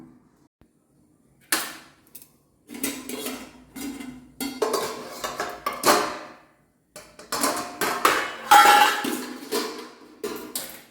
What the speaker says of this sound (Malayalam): ചെറുതായിട്ട് മറിച്ചിട്ട് കൊടുക്കുന്നുണ്ട് മൂടി വെക്കാം ചൂട് പുറത്ത് പോകാതിരിക്കാനാണ്